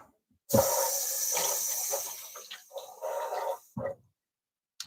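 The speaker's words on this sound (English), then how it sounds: "So I'm gonna rinse my knife." Water runs from a kitchen tap in a steady close hiss for several seconds while a knife is rinsed beneath it, then the flow cuts off with a couple of short clunks.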